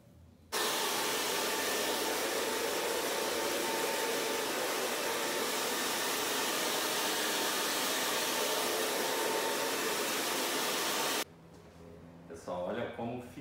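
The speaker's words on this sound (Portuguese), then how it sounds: "agora eu vou secar e mostrar para vocês" A hair dryer blows steadily and loudly for about ten seconds while drying freshly cut long bob hair at a salon, then shuts off abruptly before a few voices begin talking.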